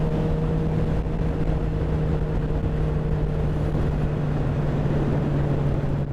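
A Suzuki Gixxer 750 motorcycle engine in fourth gear makes a steady, full drone with a constant hum under rushing wind, sustained at the same level for the whole stretch.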